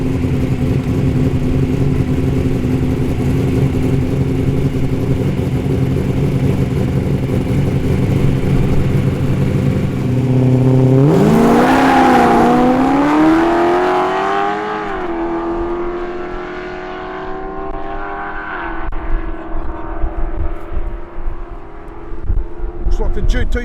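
Modified muscle cars rumble on an airstrip drag strip, one engine revving and accelerating hard with rising pitch before fading into the distance, while people talk nearby.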